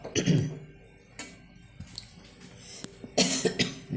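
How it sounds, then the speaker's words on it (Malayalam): A few sharp coughs, triggered by handling chili while making pickle, one burst at the start and a cluster near the end, close by with quiet pauses between. "എനിക്ക് മുളക് എടുത്ത ഉടനെ ചുമയ്ക്കും"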